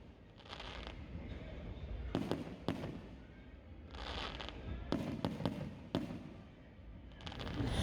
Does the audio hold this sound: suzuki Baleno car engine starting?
no